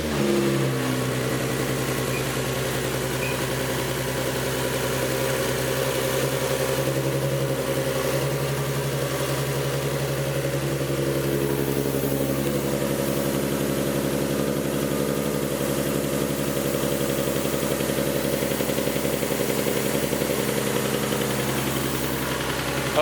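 A car engine runs at a steady idle after an oil cooler install, a constant loud rumble with no revving, close by and with no talking throughout.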